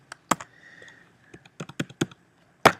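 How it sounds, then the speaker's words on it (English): Computer keyboard keys pressed one at a time, mostly cursor keys, giving a string of sharp, uneven clicks close by with one louder tap at the end. "I'm just using the cursor keys to move around."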